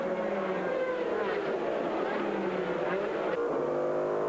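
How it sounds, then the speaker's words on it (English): BMW and two Porsche race cars at a 2000 American Le Mans Series race pass close by in a tight class battle, their engines a loud, continuous, wavering roar with pitch sweeps as they go past. "here comes the BMW behind. The 2 Porsches in their own very tight class battle."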